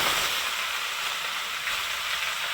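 Ridge gourd, pumpkin greens and potato, tempered with five-spice, sizzle loudly in a wok as a steady, dense, close hiss that does not let up.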